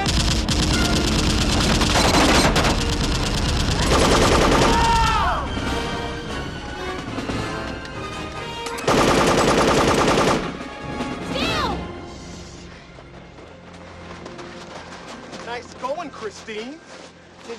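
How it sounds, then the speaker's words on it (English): Heavy gunfire from a 1994 army comedy film, with loud bursts of rapid automatic fire and crashing impacts in several waves, broken by quieter gaps where voices talk. "Did you have to shoot so close"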